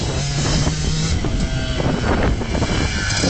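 A 1993 Kawasaki KDX200 two-stroke dirt bike ridden by a young child, its engine droning steadily and loud throughout with a shift up into another gear, mixed with wind buffeting the microphone.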